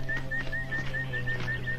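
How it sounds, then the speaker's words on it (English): A person whistles a repeated two-tone phrase as jungle ambience in a 1983 horror film, a regular, clear, fairly loud pattern of short whistles over a low steady hum, with no talk. "there's this constant whistling sound that is clearly just a person whistling"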